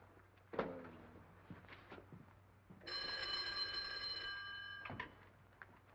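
An old telephone bell rings in one sustained metallic burst of about two seconds, faint and indoors, amid soft thumps and room noise.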